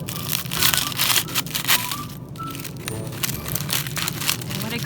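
Dry, crackling crunches and rustles as the husk is torn off a dried popcorn ear, close and continuous with bursts of louder crackle throughout, no speech.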